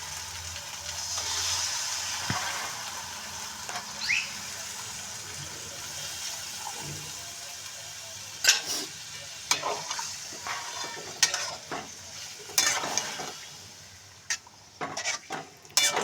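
Katla fish heads fry in oil in a pan, giving a continuous moderate sizzle with scattered clinks and scrapes of stirring, becoming busier with utensil knocks toward the end.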